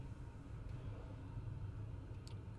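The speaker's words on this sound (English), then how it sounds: "The limo slowly drives away." In the Vampire: The Masquerade game, a limo drives off over torn asphalt in decrepit surroundings, a faint, steady low engine rumble holding evenly throughout with no voices.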